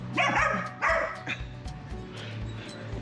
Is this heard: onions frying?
no